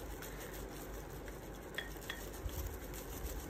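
Paradyes Cherry Coke hair color is mixed in a bowl, a soft, steady scraping and swishing of a brush or spoon through thick dye, close and quiet with a few light taps.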